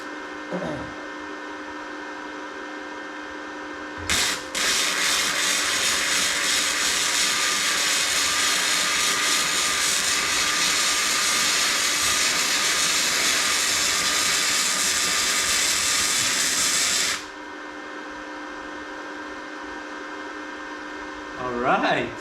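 A cheap welder lays a bead on the exhaust of a Mercedes C55 AMG, its steady crackling hiss running nearly unbroken for about thirteen seconds and up close, with quieter shop noise before and after.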